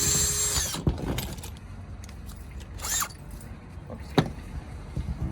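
A power drill whirs in short bursts with sharp clicks and knocks between, fairly close, drilling a bolt hole while working on a Toyota Prius.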